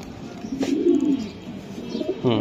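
Club pigeons coo in a low, throaty murmur close by, a soft rolling call swelling and fading over a couple of seconds with another bird starting up at the end.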